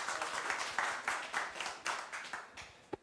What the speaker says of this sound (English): Like, I get applauded for being new.